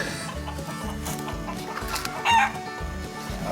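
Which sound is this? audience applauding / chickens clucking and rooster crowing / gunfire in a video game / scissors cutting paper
chickens clucking and rooster crowing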